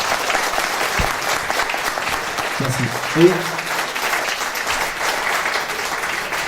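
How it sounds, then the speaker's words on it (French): Applause from a live show audience at a theatre of about 500 people, a steady crowd clapping that holds throughout while someone briefly says a word of thanks. "on peut l'applaudir"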